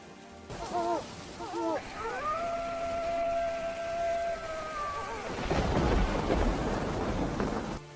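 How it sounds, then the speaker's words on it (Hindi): Heavy rain and thunder surge in during a storm, a loud, dense roar that builds over a few seconds and then holds, following a stretch of eerie, wavering tonal wails. No one speaks. "बारिश अब अपना और विकराल रूप ले चुकी थी"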